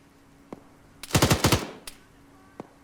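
Gunfire in a Falklands War alternate-history video game battle: a rapid burst of roughly eight shots in the middle, framed by single sharp reports before and after.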